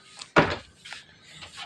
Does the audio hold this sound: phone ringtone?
no